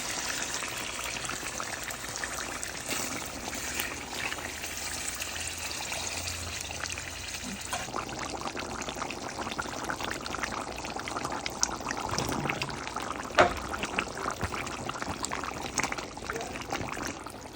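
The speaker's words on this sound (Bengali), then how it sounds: "এখন একটু গরম পানি দিয়ে দিচ্ছি" Hot water pouring into a pot of home-style chicken curry, a steady watery rush that runs continuously and fairly close, with no talking over it.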